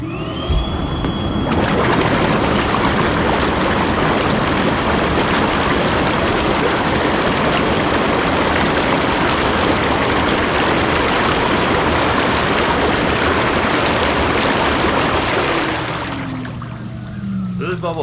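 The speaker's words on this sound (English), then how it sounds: "I'll show you what the bubbles look like." Bubble jets of a $200 inflatable hot tub churning the water, a loud steady roaring froth that starts abruptly and stops near the end.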